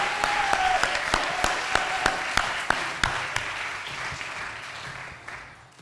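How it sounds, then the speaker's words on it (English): Applause for a highly commended competitor at a national grand final event, starting with sharp distinct claps that blend into steady crowd clapping, then thinning and fading toward the end. "Can we please give our highly commended Sophie a massive round of applause?"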